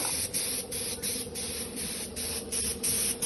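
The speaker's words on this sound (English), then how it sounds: "we're just undercoating with a bit of rust inhibiting undercoat" Rust-inhibiting undercoat is sprayed onto the chassis of a 1975 Series 3 Land Rover under restoration, a close, hissing aerosol in repeated bursts about every half second with short gaps between them.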